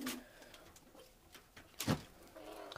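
Pigeons coo softly in a backyard coop area, a few low, throaty calls at moderate distance with one louder, closer coo near the end, amid faint ambient noise.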